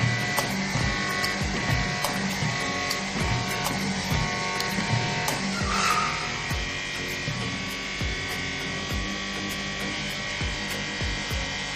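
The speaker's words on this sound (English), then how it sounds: "The first click indicates that the backstop pawl has reset." Rapid ratcheting mechanical clicks from a hollow hydraulic torque wrench as it pressurizes, a close, steady rattle of repeated pawl clicks over a constant mechanical hum.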